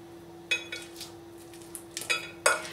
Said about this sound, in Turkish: Şöyle bir çatal yardımıyla peynirlerimi eziyorum.